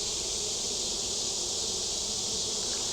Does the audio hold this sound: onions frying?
no